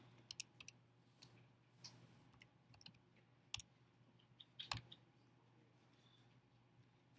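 Calculator keys pressed one at a time while entering function inputs, giving scattered soft clicks at an irregular pace over a faint steady hum, with no talking.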